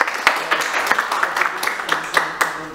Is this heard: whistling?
no